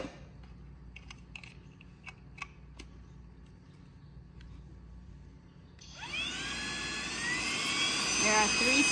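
A VNOST portable cordless car vacuum starts up after some quiet clicking and handling, then runs with a loud high-pitched whine that rises slightly in pitch while sucking up debris.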